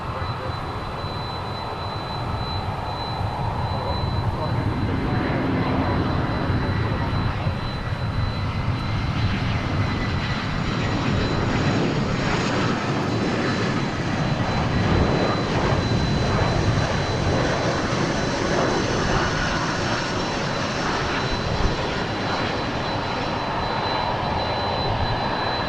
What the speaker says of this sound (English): We'll turn our attention back to our A319 that's arriving from Omaha.